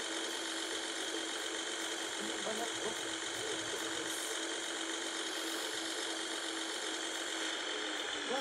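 Mercedes-Benz O405N² city bus engine in Public Transport Simulator, a steady, faint droning hum with no talk, holding an even level throughout.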